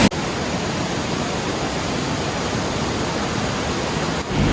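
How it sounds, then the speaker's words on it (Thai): Chaloem Phra Kiat waterfall in Betong, Yala, Thailand, a loud, constant roar of falling water filling the whole span without a break. "อนนี้เราอยู่ที่น้ำตกเฉลิมพระเกียรตินะคะ"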